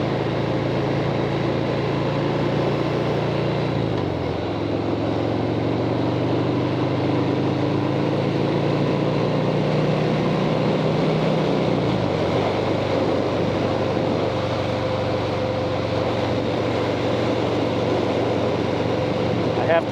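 Harley-Davidson Softail Fat Bob motorcycle engine while riding, a steady loud low rumble with the pitch rising and falling through shifts, wind noise over it and a rider talking.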